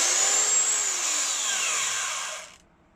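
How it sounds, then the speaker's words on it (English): A PowerFile finger sander runs on wood while carving a guitar neck heel transition, a loud close whining buzz with a falling pitch that stops abruptly near the end. "Today I'm going to use a finger sander."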